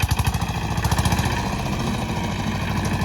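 A tractor's heavy engine chugs steadily close by, a loud rhythmic diesel thumping that continues throughout without pause.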